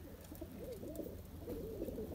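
A Firozpuri pigeon gives soft, low rolling coos, faint and steady, with a quiet background hum and no talking.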